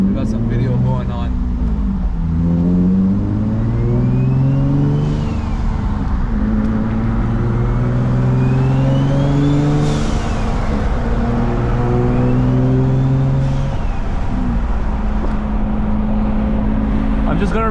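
A single-turbo Infiniti G35 coupe running six pounds of boost accelerates through repeated gear pulls, engine note climbing then dropping at each shift, with turbo whistle and blow-off chirps, loud and close from the cabin.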